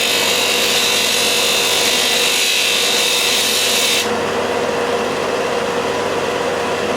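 Ferrex (Aldi) disc and belt sander running steadily with a continuous broadband whir and rasping hiss, loud and close, its bright high hiss dropping off abruptly about two-thirds through while the motor keeps droning.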